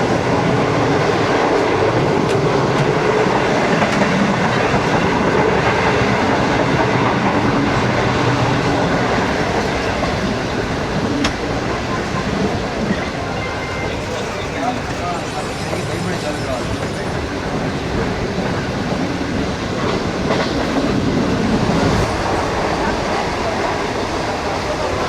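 The Pak Business Express train running on rails, a continuous rumbling roar of wheels and carriage with rattling clatter, heard from inside a coach at steady loudness throughout.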